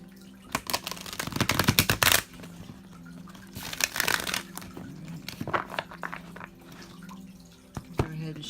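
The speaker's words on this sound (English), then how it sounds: "Go ahead and shuffle all the cards while I'm doing this." Tarot cards being shuffled by hand in several crisp riffling bursts with quieter gaps between, close and fairly faint.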